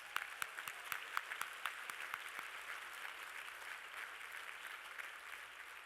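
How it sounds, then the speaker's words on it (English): A luncheon audience applauding, a broad wash of many hands at moderate distance with a few sharper nearby claps standing out, steady throughout. "If we could give them a round of applause"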